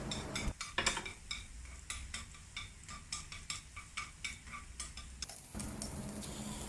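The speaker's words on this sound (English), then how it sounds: "Add some oil to the same pan and saute the garlic." Garlic sautés in oil in a pan, heard as a quiet sizzle with frequent light clinks and scrapes from stirring, the taps coming in a loose rhythm at low volume.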